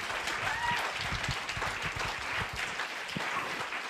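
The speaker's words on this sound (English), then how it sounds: "give a round of applause for" Audience applause rises at a talk welcoming bell hooks and Kevin Powell, a continuous patter of clapping mixed with some low crowd murmur and a few voices underneath.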